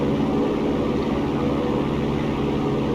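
A small airplane's engine and propeller drone steadily at high power during power-on stall practice, simulating a takeoff in clean configuration, a constant close, loud cabin hum with no talking.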